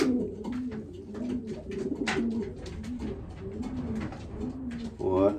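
A pigeon in a breeding loft coos in repeated low, throaty huffing and puffing phrases, close and steady, with a few wing flutters and clicks in the background.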